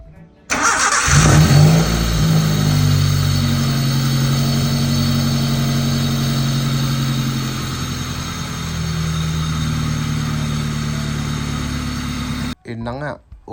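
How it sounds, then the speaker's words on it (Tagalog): Car engine starting and then running steadily with a borrowed distributor fitted while diagnosing an RPM drop, a loud continuous idle close by for over ten seconds before cutting off. "umandar siya gamit ang distributor ni MJ"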